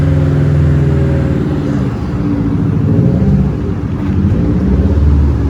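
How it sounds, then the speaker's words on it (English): A low 2006-2011 Honda Civic creeps slowly up a garage ramp, its engine a steady close rumble with a faint whir rising and falling as it climbs, no voices present. "And he's gonna get the car slow right up the ramp."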